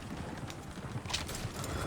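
Horses in the Western video game Red Dead Redemption II clatter along in quick, faint hoofbeats, a soft rhythmic clip-clop over muffled background noise.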